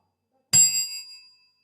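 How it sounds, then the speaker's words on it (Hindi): A quiz-show answer bell on a Hindi education program is pressed once, giving a bright, ringing ding that strikes sharply and then fades over about a second in an otherwise quiet moment. "आपको अगर आता है जवाब तो आप दबा सकते हो घंटी को।"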